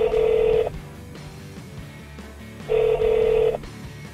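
Two identical dialing tone bursts come from a 2013 Lexus Bluetooth phone system with navigation, each a steady electronic beep of about half a second separated by a quiet gap of a couple of seconds.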